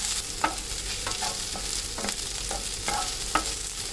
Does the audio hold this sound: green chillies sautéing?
yes